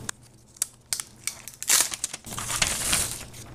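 Protective plastic film peeled off the back of an Xbox One Kinect sensor: a close, sharp crinkling and tearing rip that swells into a longer loud crackling strip, preceded by a few small plastic ticks, with no voices.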